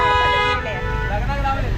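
A car horn sounds in a short blast amid traffic, with a person talking over it.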